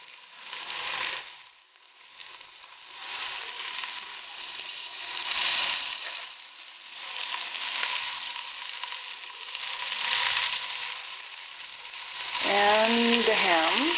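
Sausage hits a hot pot and fries with a loud, continuous sizzle close up, swelling and easing as it is stirred, and a brief voice speaks near the end.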